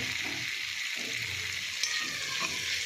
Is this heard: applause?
no